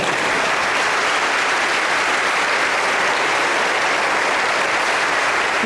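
A church congregation breaks into loud, sustained applause, a thick, unbroken roar of many hands clapping at once from start to finish.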